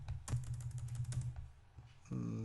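Keys clatter in quick bursts on a computer keyboard as Java code is typed, close and fairly soft, with a low steady hum underneath and a short tone near the end.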